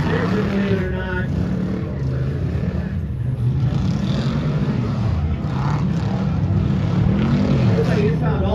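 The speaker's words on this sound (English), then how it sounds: "this is a carbureted small block Chevy with a Muncie 4-speed transmission" A carbureted small block Chevy drift car with a Muncie 4-speed roars continuously at a street league drift event, its engine note rising and falling under steady loud tire and crowd noise.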